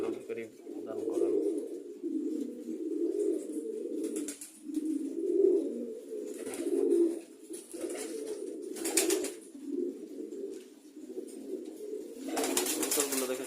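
Pet pigeons coo in soft, rounded bursts throughout, a steady low murmur of several birds close by, with brief flutters and louder calls near the end.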